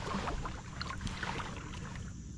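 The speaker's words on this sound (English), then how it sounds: "Just paddle right through this little section." A kayak glides through a small marshland channel at sunrise, with steady soft paddle swishes and water movement close by, under a constant rushing wash and no voices.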